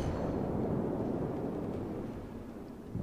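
Heavy guns firing from the Konig battleship in World of Warships, a dense, rumbling, explosive roar that holds steady and fades slightly toward the end, with no voices.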